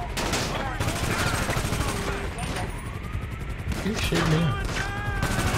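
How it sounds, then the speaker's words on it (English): Mini AK gunfire in GTA Online (GTA V) rattles in rapid bursts of shots, fairly close and steady, with someone talking over the shooting. "This is a mini AK."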